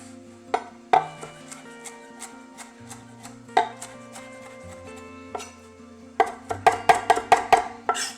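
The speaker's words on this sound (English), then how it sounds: "I'm just going to coarse chop this." A knife coarse-chops freshly washed cilantro on a cutting board: close, sharp chops in uneven bursts, with a quick flurry of rapid strokes near the end.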